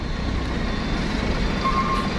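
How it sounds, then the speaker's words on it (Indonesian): Low, steady rumble of a Damri bus engine moving through the busy Merak ferry port at dock 3, fairly faint and continuous with a brief higher tone near the end. "Nyusul di belakangnya bus Damri."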